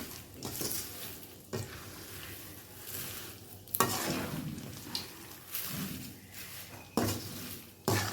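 Chakli frying in hot oil, a soft bubbling sizzle at moderate level broken by sharp clinks and scrapes of a utensil against the pan every second or two.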